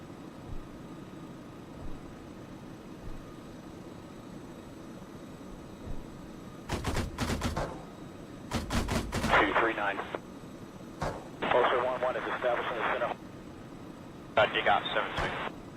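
Incoming indirect fire in the video game Arma 3: a few heavy booming impacts, one after another, over a quiet background, with thin radio voices speaking between the blasts.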